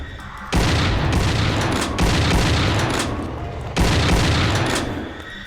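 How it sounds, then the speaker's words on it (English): Three heavy booming blasts from a combat shotgun in a horror first-person shooter game, each blast loud and close and followed by a long decaying rumble. "When you shoot this combat shotgun, it doesn't automatically fire both barrels."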